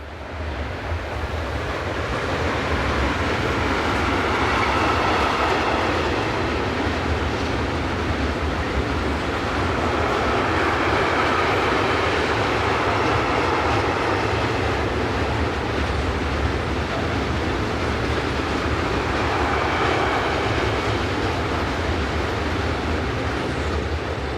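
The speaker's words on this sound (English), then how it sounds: "heads south with train 48501, which it is hauling from Kuti to Štúrovo" A freight train hauled by a locomotive passes on a European main line, a loud, steady rumble and wash of wheels and wagons continuing without a break throughout.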